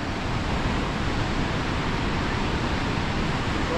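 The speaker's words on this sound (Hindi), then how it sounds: "डैम से पानी गिर रहा है और बादलों की तरह उठ रहा है।" Water pours from the open gates of the Ban Sagar dam on the Narmada river as a steady, loud, unbroken roar of rushing spray, with no pauses and no voices.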